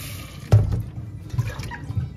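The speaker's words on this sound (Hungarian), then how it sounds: "Vizet kiöntjük még egyszer." Water from washing potatoes is poured out in a kitchen, a short splashing gush near the start followed by quieter sloshing and a couple of smaller spills, close by with no talking.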